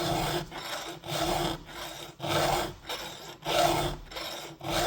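A hand file sharpens a chainsaw chain in about five even forward strokes. Each is a close, gritty rasp, separated by brief quiet returns, with no speech.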